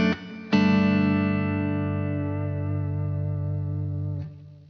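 PRS DGT electric guitar with humbuckers rings out a sustained, chorus-tinged distorted chord after a brief opening strum, held loud and close for several seconds before being cut off.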